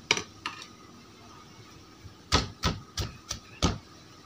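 Roasted chilies pounded in a mortar with a pestle, a series of sharp, close thuds. A few knocks come first, then a quicker run of about six strikes.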